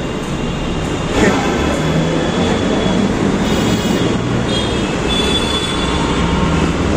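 A Kolkata East-West Metro train runs between Ruby and New Garia, a loud, steady rumble of wheels on rails heard from inside the carriage, with faint high squeals above it.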